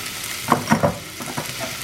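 Onions and other ingredients for mushroom masala sizzle softly in a pan, with a few stirring scrapes and spatters rising over a steady frying hiss.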